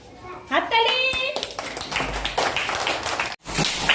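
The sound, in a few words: children clapping at a school reading festival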